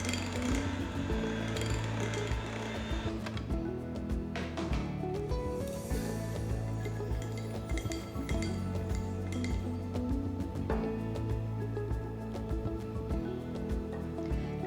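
Whisk lightly beating chocolate coffee roll cake batter in a bowl, with steady repeated clinks and taps against the bowl over a constant low background hum throughout, with no talking.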